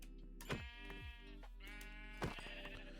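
Sheep bleat in a video game, a few distinct wavering calls rising over a steady low background hum, with no talking.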